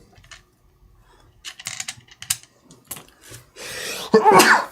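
A person sneezes during a tabletop card game session: a loud, sharp burst near the end that follows quieter scattered handling noises and soft throat sounds.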